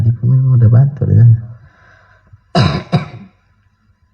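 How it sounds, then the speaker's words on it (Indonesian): A dry cough bursts out twice in quick succession, close and loud, after a stretch of someone talking. "Batuk angin kering."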